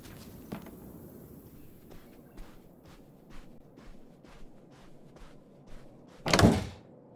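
A door in a video game opens with a sudden loud thunk near the end, after soft repeated footsteps over quiet ambience.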